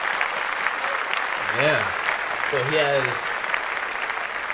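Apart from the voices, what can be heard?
applause, clapping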